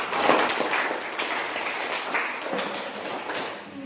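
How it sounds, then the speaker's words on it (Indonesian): A classroom of students applauds together, a dense, steady wash of clapping that holds for several seconds before tapering slightly at the end. "tepuk tangan untuk kita semua"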